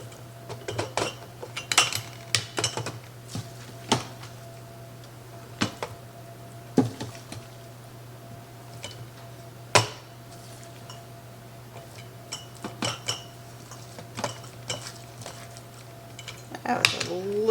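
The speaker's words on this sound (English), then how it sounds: "then we'll get a spoon and loosely pack it down" A metal spoon scrapes and clinks against a glass canning jar while ground beef is loosely packed down inside, scattered light taps and knocks over a steady background hum, with some quiet talk.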